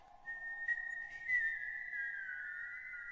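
Eerie drawn-out whistle of El Silbón, the legendary whistling ghost of Venezuela, a single sustained high note that wavers and slides lower near the end, moderately close and alone over a faint background.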